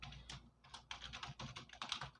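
A password is typed on a computer keyboard in a quick, irregular run of soft key clicks, faint and close, with no talk.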